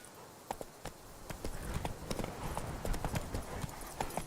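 Roach, a horse in the Witcher 3 video game, gallops with rhythmic hoofbeats, a steady run of sharp clip-clop strikes, fairly faint and unbroken, with no voices.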